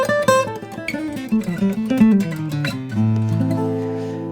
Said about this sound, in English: For flat picks, I use this Blue Chip TAD60 when I'm playing acoustic.